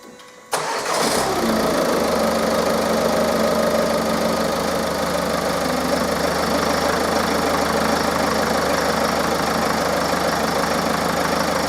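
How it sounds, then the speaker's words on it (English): A diesel vehicle engine connected to a fuel system cleaning machine cranks and catches, then settles into a steady, loud, close idle that runs unchanged to the end. "Generally, a diesel engine on idle will take around about"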